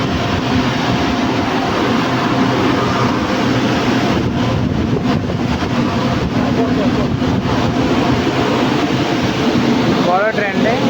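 A train rolls past near a railway line in Raghunathpur, a loud continuous rumble and rattle of wagons with faint clicking, while people talk over it.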